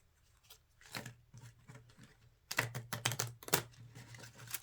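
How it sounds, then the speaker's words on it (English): Soft, quick clicking and rustling of cards being handled, faint at first, then a denser, louder burst of flicking riffles near the end. "I will do my best to shuffle them"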